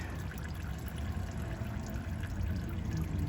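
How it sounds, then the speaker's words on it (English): Transmission fluid from a 2020 Toyota Corolla Hybrid e-CVT drips and trickles steadily into a drain pan, a faint continuous liquid patter close by with no talking. "Now I'm going to let that drip."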